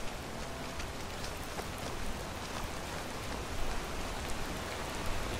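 Steady rain falling in a video game, a dense even hiss of drops with occasional louder patters, continuous and fairly soft with no talking.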